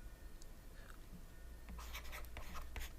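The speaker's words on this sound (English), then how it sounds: "So we can write that down now" Pen scratching on paper while an equation is written out by hand, a short run of close, light scratches that grow busier in the last second or so, with no talking.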